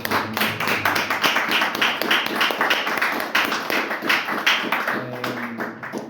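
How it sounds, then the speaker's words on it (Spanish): A church congregation claps loudly and steadily, many hands striking in a dense, slightly rhythmic patter that fills the room for several seconds. "démosle un fuerte aplauso al Rey de Reyes"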